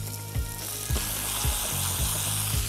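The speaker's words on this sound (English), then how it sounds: "Just sear the top of that fat." Pork belly searing skin side down in a hot pan with fresh bay leaves, a steady close sizzle broken by several soft rhythmic bumps of the pan being moved.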